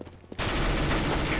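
Sustained automatic gunfire from Counter-Strike: Global Offensive, a loud continuous burst of rapid shots that starts abruptly after a short quiet moment and runs to the end.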